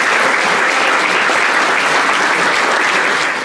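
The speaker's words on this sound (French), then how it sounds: "Merci d'applaudir François Privat." A crowd at a campaign launch applauds an election running mate in dense, loud, sustained clapping that fades slightly toward the end, with no voices over it.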